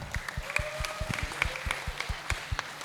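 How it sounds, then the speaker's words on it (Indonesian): Audience applause for a vice minister at a Hindu youth leadership training camp: a steady run of sharp, rapid handclaps fills the room for about three seconds, with a brief tone sounding faintly underneath. "kita kasih aplaus buat Ibu Wamen kita"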